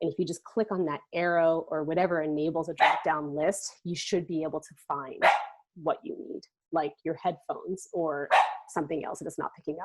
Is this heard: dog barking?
yes